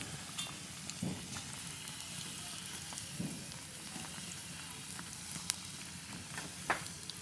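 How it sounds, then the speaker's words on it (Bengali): Nimki dough pieces frying in oil in a small wok over a fire fuelled with dried grass, giving a soft steady sizzle with faint crackles and a few sharper pops, fairly quiet and without speech. "নিমকির জন্য এই যে কড়াইতে দিছি।"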